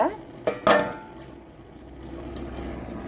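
A metal pot lid is set onto a simmering pot of chicken kurma, making two quick clanks close by, followed by a low, quiet background hum.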